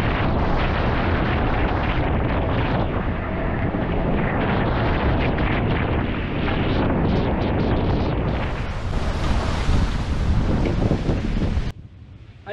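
Wind roars and waves rush around a Vendée Globe racing sailboat at sea in about 12 knots of breeze, a loud continuous blustery wash with buffeting on the microphone, ending abruptly near the finish.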